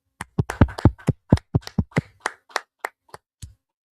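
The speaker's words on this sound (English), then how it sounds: "Let's clap it up." A small group claps together during an Isupk Brotherhood class, sharp distinct claps in a loose, fast rhythm that slows and thins toward the end, close and fairly loud, with no talking.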